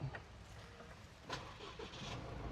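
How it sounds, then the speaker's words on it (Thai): Isuzu Mu-x 2.2 diesel engine starting by push button, a faint crank and catch settling into a low steady idle, heard from inside the cabin. "พอขึ้นมาปุ๊บ ก็กดปุ่มสตาร์ทครับ แล้วก็เหยียบเบรก"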